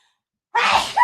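A single sharp sneeze bursts out after a stretch of silence, close and loud, with a brief second burst at the end.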